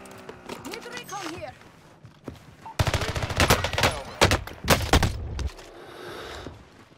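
Burst of video-game gunfire from a long-range weapon in a shooter match, a rapid string of loud close shots over about three seconds, with talking before and after.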